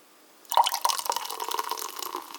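Peach and honey carbonated water is poured into a mug, starting suddenly and going on as a steady splashing, fizzing stream, close and moderately loud.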